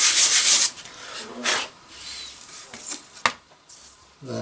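A sanding block rubs over filled cracks on a scratch-built RC airplane wing, with a few bursts of scratchy, hissing strokes, a sharp tap partway through, close up with quiet pauses between passes.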